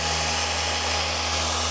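A car polisher spins its pad on the paint of a McLaren MP4-12C, giving a steady, close, high-pitched whirring drone with a low motor hum beneath it.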